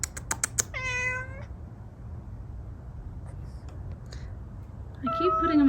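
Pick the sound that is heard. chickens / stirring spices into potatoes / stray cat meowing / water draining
stray cat meowing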